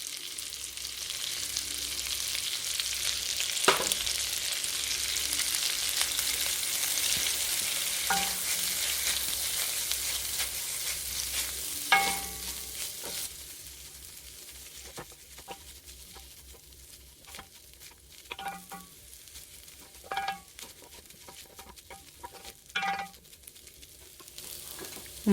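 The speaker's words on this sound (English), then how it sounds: "at this point I'm going to add in my noodles and let those fry off" Noodles frying in a smoking-hot pan with dark soy, a strong steady sizzle that gradually quiets, broken by intermittent clanks and scrapes of tossing and stirring.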